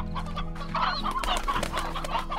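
Chickens in the farming video game Slime Rancher cluck in a steady, busy stream of close, overlapping bird calls that runs throughout without any talk.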